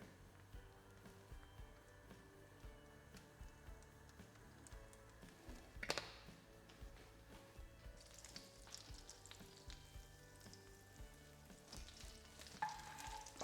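Octopus sizzles and fries in a pan of butter and oil, a steady crackling hiss with occasional stirring scrapes and a louder spatter partway through, heard alone without talk.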